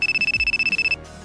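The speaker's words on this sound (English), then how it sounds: "Oh, my phone's ringing." A mobile phone ringtone plays alone as a rapid run of about fourteen bright electronic pulses, close and loud, then abruptly stops.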